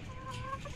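Chickens clucking nearby in a short burst of several quick, close clucks over low background noise.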